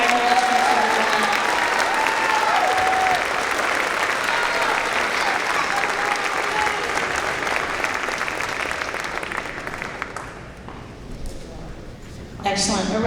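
An audience at a school district band festival claps in sustained, dense applause that stays loud throughout and thins slightly near the end. Faint voices sit underneath.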